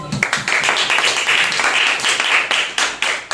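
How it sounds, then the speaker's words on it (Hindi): Church congregation at a Wednesday worship service clapping loudly together, a dense burst of many hands close and full for a few seconds with brief dips before it trails off. "एक बार बहुत जोरदार तालियां बजाते हैं।"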